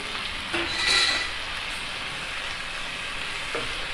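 Green peas sizzling in a pan with reddened onions, Kashmiri chili powder and spices, a steady soft frying hiss throughout with a brief stir or clink near the start, no talking.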